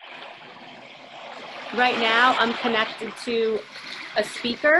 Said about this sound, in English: And I'll just play for a moment what could simulate an ocean drum.